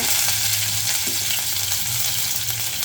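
Steady crackling sizzle of mustard seeds and urad dal popping in hot oil, continuous and close, with a low hum underneath.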